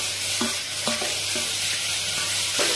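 A spoon stirs tamarind, finely chopped onion and curry leaves in a hot pan for tomato rasam, giving regular scraping strokes about twice a second over a constant low sizzle, close and clear with no talking.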